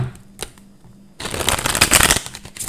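A burst of tarot cards being riffle-shuffled, loud and close, running for over a second after a couple of faint taps.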